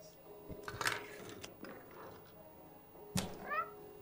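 A cat in the video game Stray gives a couple of short meows, one clear and rising near the end, heard softly amid faint talking and game ambience.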